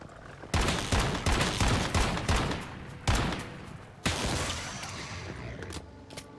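Gunfire in the survival shooter game Once Human: a burst of several sharp shots in quick succession, then two more separated blasts, loud and close with reverberant tails and no talking.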